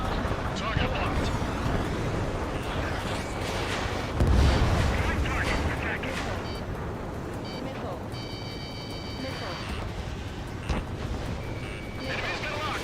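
Incoming missile explosions in the combat flight game Ace Combat 7, heard as a dense roar with a heavy low boom near the middle, under radio chatter and alert tones.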